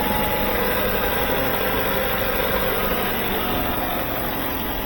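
A 2019 Kia Stinger with the 2.0L engine runs steadily right after starting, giving a continuous close engine drone with no breaks.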